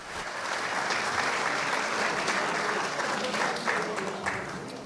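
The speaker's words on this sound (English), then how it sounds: "Nice round of applause for Ricky." Audience applause at a St. Patrick's Day roast for DJ Ricky B, a dense, steady wash of many hands clapping held for several seconds, moderately near, with faint crowd voices mixed in.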